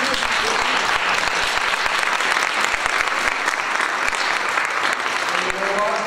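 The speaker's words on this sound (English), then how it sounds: "A little round of applause for them." Audience applause at a Chamber of Commerce relaunch event, a loud dense round of clapping sustained evenly for several seconds, with faint voices mixed in.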